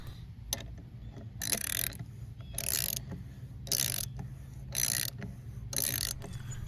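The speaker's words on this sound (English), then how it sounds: "Then use the ratchet to finish." A ratchet drives a thread cleaner onto an outdoor hose bib faucet, giving six or seven bursts of rapid clicking in a steady stroke-and-return rhythm, close and clear over a low background hum.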